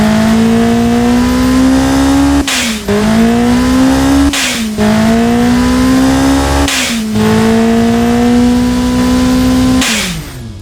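A tuned Ford 1.5L EcoBoost engine making 300 horsepower revs loudly in the game Automation, rising in pitch through four gear pulls with sharp drops at each shift, close and constant, with no voices.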